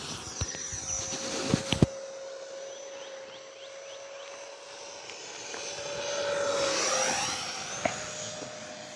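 An FMS F-15 radio-controlled jet with a 64mm electric ducted fan flies past outdoors, a steady high whine that holds for several seconds, then swells louder and sweeps in pitch as it passes close, with a few sharp knocks early on.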